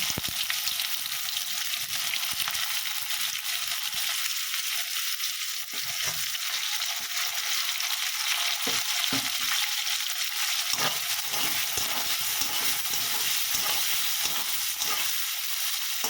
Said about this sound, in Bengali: তেলটা গরম হয়ে গেছে অল্প কটা জিরে আর দুটো শুকনো লঙ্কা ফোড়ন দিয়ে দিলাম এবার পেঁয়াজটা দিয়ে দেবো